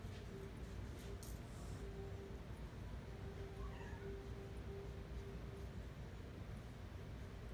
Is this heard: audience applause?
no